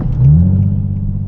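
An Infiniti G37 engine with Vibrant resonator exhaust gives a brief, deep rumbling rev, loud and close, with a low throaty resonance that fades slightly.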